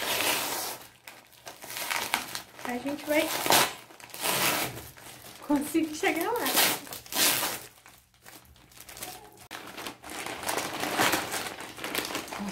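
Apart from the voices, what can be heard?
packaging being cut open with scissors, plastic crinkling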